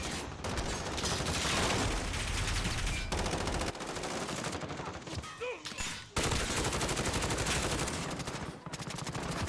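Rapid gunfire from an intermediate-ammo gun rattles in the video game Rust, dense bursts of shots filling most of the stretch with a couple of brief lulls and a faint voice.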